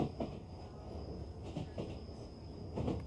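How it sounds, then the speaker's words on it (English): Train ambience played from the Noisli background-sound app: a steady low rumble of rolling rail cars with faint rhythmic clacks recurring roughly every second and a half, continuous throughout. "trains, it sounds like."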